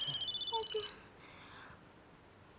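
A telephone ringing with a bright warbling electronic tone for about a second, then fading into quiet room noise.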